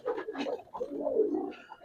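A pigeon of the Giribaz breed, aluminium silver colouring, coos in a loft, with soft repeated throaty calls close by, nearly continuous over a couple of seconds without speech.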